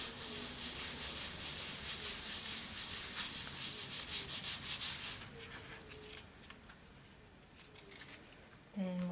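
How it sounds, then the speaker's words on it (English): A ribbon rubbed across a paper card, a dense scratchy rasping that holds steady for several seconds, then softens and thins toward the end, close up. "So we'll just turn it over and give it a little bit of a rub."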